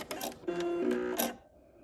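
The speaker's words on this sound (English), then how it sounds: "I will go ahead and cut my thread" A quilting sewing machine stitches a short run near the end of a binding, a quick mechanical whir and clatter lasting about a second before a soft click and quiet.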